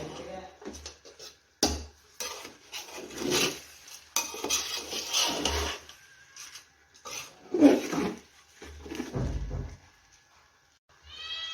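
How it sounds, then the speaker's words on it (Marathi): Rice and mixed vegetables for a paneer pulao are stirred in a pot, producing intermittent scraping and rasping strokes in uneven bursts with pauses, alongside someone talking at times. "आपण तांदूळ टाकून घेतलेला आहे मिक्स करून घेऊया सर्व"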